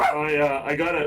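A dog barks and yips repeatedly close by, its sharp calls mixed in with someone talking.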